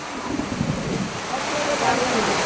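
Heavy rain pours down outdoors as worshippers walk to prayer, a dense, continuous roar of water that holds steady without a break.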